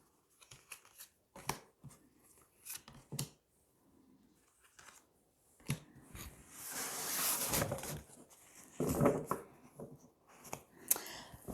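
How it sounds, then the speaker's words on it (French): Tarot cards shuffled and drawn by hand for a reading, with scattered soft flicks and slaps of cards and a longer riffling rush in the middle, close and fairly quiet with no talk. "on va tirer 5 cartes"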